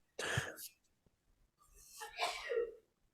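A single sharp sneeze bursts out, followed by faint breathy sounds and quiet murmuring.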